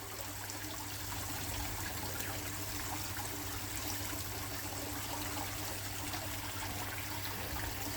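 Water from a garden pond waterfall trickles and patters steadily, a soft continuous wash that stays faint and even, with no voices.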